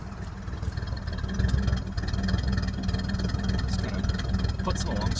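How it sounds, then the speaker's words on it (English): A Winnebago F-17 engine sits on low idle through a newly fitted exhaust muffler, giving off a steady low rumble with a faint rattle. A voice talks over the engine. "So that's that new exhaust."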